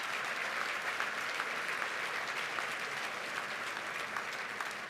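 A gala audience applauds the Reverend after grace, with steady, dense clapping from a large room that holds at an even level for the whole stretch.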